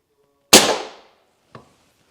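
A single sharp shot from a Crosman 2250 compact CO2 air rifle firing pellets, a loud close crack with a short decaying tail, followed about a second later by a faint click or pellet impact.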